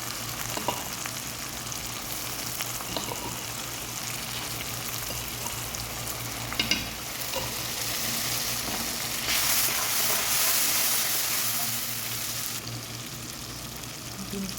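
Onions sizzle and fry in hot oil as ginger garlic paste is added, with a steady close-up crackle throughout and a few brief stirring clatters, no voices.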